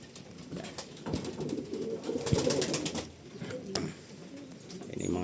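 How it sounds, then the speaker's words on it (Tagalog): Pigeons coo softly nearby in low, rolling phrases while three of them are being moved, with light rustling in the background. "Ayan yung mga ibon, nandiyan na sila."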